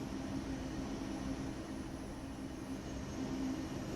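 An ICE1 high-speed train pulling away under automatic speed control in Train Sim World 3, a quiet steady low rumble and hum with a faint constant tone, unchanging throughout.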